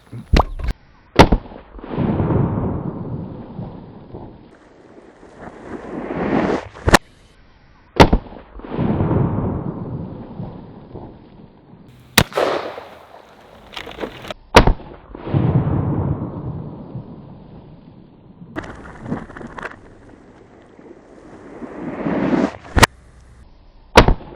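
Repeated explosive blasts and sharp bangs from rifle shots, .45-70 Government and .450 Bushmaster, with long roaring, rumbling swells between them; loud and near, with no talking.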